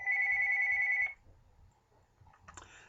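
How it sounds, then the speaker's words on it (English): A telephone rings with an incoming call during a recorded math lesson, one loud sustained electronic ring lasting about a second, then cutting off to a quiet room with faint shuffling. "Had a little phone call coming in."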